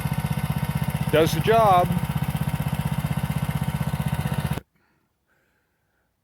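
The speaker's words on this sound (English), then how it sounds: "So there it is, idling." A small engine with about 5 hours of use idles with a steady, rapid chugging pulse, and someone speaks briefly over it before the sound cuts off abruptly into silence.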